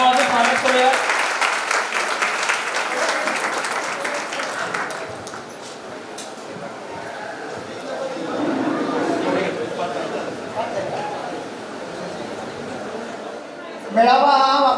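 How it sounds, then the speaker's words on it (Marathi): An audience at a matchmaking gathering claps in welcome, a steady wash of applause that gradually thins and softens, with a voice speaking over it near the end. "चला टाळ्या वाजवून स्वागत करूया."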